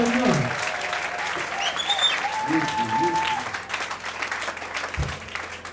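A church congregation at an intercession prayer service claps loudly and continuously for Jesus, a dense sustained wave of applause with voices calling out over it.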